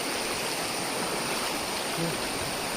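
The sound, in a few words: river water flowing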